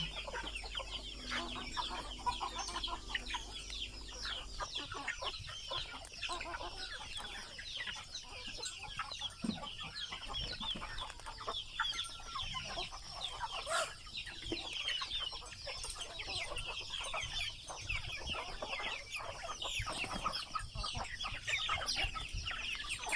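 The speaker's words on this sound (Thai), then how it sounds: "แล้วก็ไก่ข้างนอกที่เขากิน ไม่ทันเขาก็จะวิ่งเข้ามาข้างในด้วยค่ะ" A flock of domestic village chickens clucks and squawks continuously while being fed, with scattered pecking and scuffling, busy and fairly close, no talk.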